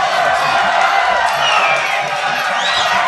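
Spectators at a Muay Thai fight cheer and shout continuously, a loud dense roar with whoops and some clapping, and a commentator talks over it.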